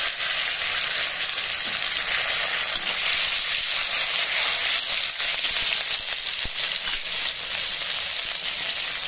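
Chopped tomato sizzles in hot oil tempered with whole cumin, bay leaf and a dried red chili, a steady loud frying hiss that holds evenly throughout with no talking.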